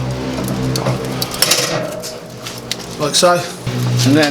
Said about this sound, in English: We're going to pop the grill grates on top